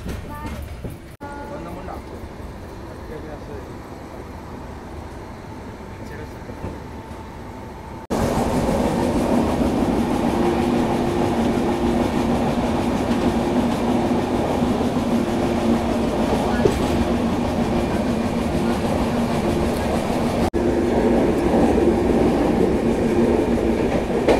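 A moving train, the Visakhapatnam–LTT Express, rumbles steadily from onboard, its low roar and faint rhythmic clatter growing louder partway through as if passing into a noisier stretch, with voices faintly underneath.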